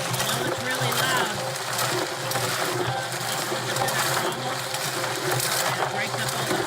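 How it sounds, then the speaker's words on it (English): A gold mining trommel at a mine in Indiana runs loud and steady, its dense, continuous mechanical churn and rattle of tumbling clay and gravel filling the whole stretch without a break. "It breaks up all the clay, kind of like a washing machine."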